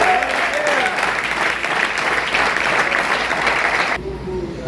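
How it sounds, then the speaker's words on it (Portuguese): A church congregation applauds in honor of Jesus, a dense, loud burst of clapping that fills the space for about four seconds before cutting off abruptly. "Aplaude o nome do Senhor Jesus"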